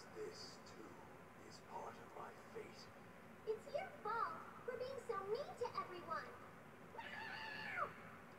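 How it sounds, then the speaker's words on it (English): A meow from the Castlevania Rondo of Blood game, several short rising cat cries and a longer wavering one near the end, heard over background game audio. "That's the worst meow I've ever heard."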